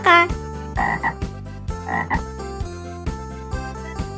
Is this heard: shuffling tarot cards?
no